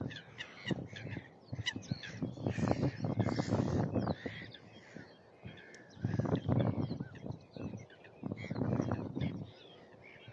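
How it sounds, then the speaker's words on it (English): Crows caw repeatedly among other bird calls at a coastal scrape by a sea wall at high tide, coming in clustered bursts with short quiet gaps between. "the scrape's absolutely alive with bird life today"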